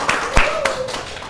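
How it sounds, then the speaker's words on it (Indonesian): A classroom audience of students gives brief applause after a student's presentation, a short burst of scattered hand claps close by with a voice faintly underneath. "Beri tepuk tangan yang meriah untuk Angel."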